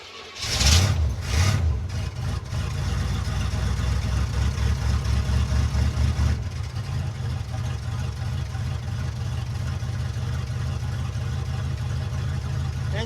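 A car engine catches on a cold start with a brief loud surge, then settles into a steady, even idle rumble that continues throughout.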